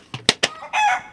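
A chicken or rooster on a rural property lets out three short, sharp clucks in quick succession, then one longer, drawn-out call, all close and fairly loud with no talking.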